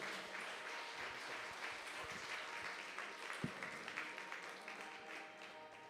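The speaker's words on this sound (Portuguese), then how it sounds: "Aplauda o Senhor pela vida do Robson" Church congregation applauding at an evangelical service, a steady broad wash of clapping that holds through the clip at moderate level, with a few louder individual claps standing out.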